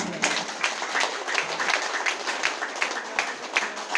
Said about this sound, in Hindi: एक बार जोर से दिल से ताली बजाना अपने मम्मी पापा के लिए।